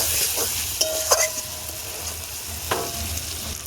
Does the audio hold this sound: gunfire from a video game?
no